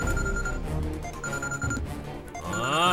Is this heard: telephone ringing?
yes